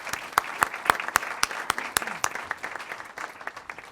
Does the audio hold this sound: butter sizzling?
no